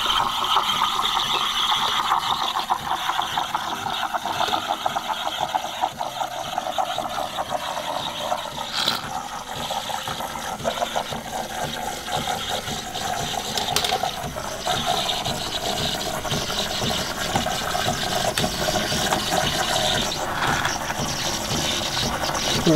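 Coffee equipment used for making latte art gives off a continuous mechanical clicking and ratcheting, fairly loud and close, with a faint watery hiss underneath and no talking.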